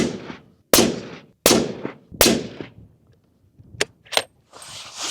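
A Tikka T3X Superlite rifle in 7PRC fires three sharp suppressed shots at a steady interval, each with a decaying echo. Softer metallic clicks of action handling follow, close and loud.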